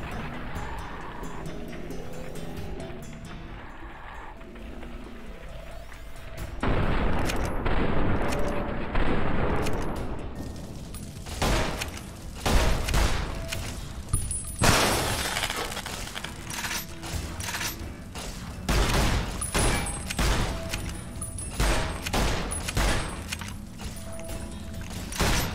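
Gunfire in Fallout: New Vegas, from the Old World Blues add-on during a fight with Securitrons. After a quieter stretch comes a loud run of sharp, repeated shots, with some bursts and isolated cracks that continue to the end.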